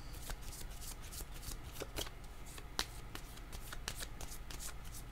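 Tarot cards being shuffled and drawn during a French-language reading, with a run of crisp riffling snaps and flicks close to the microphone, one sharper slap near the middle, and no talk.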